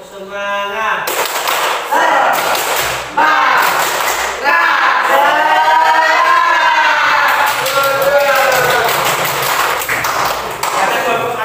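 A high-school maths class does a rhythmic spirit clap, loud sharp claps in repeated patterned bursts with group chanting mixed in throughout.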